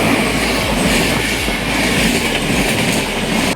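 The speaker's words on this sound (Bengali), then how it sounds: "এই ট্রেনটা একদম বেরিয়ে গেল স্পিডে, এই স্টেশনে সব ট্রেন দাঁড়ায় না" A train speeds through a small rural station in Purulia, India without stopping, its wagons roaring close and loud with a rhythmic clickety-clack of wheels on rail joints throughout.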